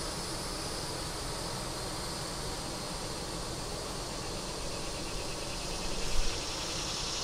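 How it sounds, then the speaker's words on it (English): Honey bees swarm over a deep frame pulled from a hive with a super on top. Their buzzing makes a constant, dense hiss-like drone that stays level throughout, with no voices over it. "There's many bees in here."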